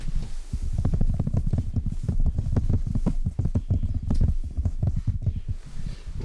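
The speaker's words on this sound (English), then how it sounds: "these are the footsteps of the many people that wear shoes like this" Shod footsteps of many people walking, a steady run of dense, overlapping heavy steps close by that keeps going without a break.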